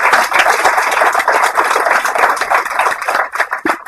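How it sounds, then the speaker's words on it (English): Audience at a panel event applauds the panelists, a steady, close wash of clapping from many hands that fills the whole few seconds without speech. "Let's give a round of applause to our panelists and Liz."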